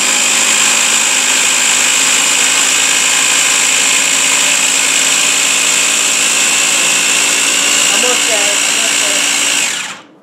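Food processor motor blending black olive tapenade, a loud steady high-pitched whir that runs unbroken for about ten seconds and then cuts off abruptly.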